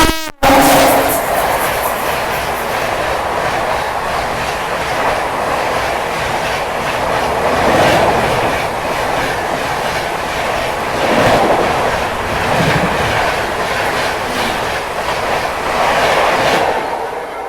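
The Dhauli Express passenger train runs on rails from Kolkata to Puri, heard from onboard as a steady, loud rolling rumble with faint clickety-clack over the whole stretch and no talking.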